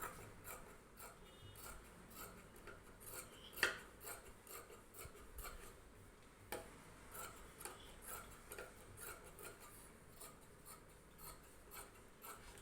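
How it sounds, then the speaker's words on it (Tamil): Scissors snipping away the extra fabric on an embroidered blouse during stitching, a quiet run of soft rasping cuts and small ticks repeating steadily, close and faint with no talk. "இந்த எக்ஸ்ட்ரா இருக்கிறத வந்து கட் பண்ணி விட்ருவோம்"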